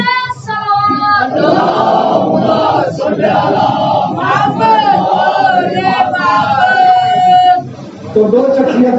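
A crowd at a majlis gathering chants the salawat together in answer to a call, with many voices blended into a loud, continuous, reverberant chorus.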